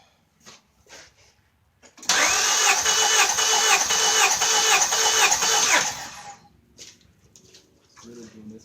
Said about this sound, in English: this motor runs, it sounds really good